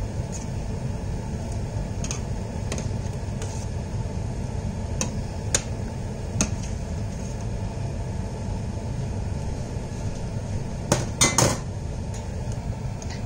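Cooking pot and utensils clatter while chicken meatballs are made in a home kitchen, with scattered sharp metallic clinks and knocks, one brief cluster near the end, over a steady low bubbling and hum.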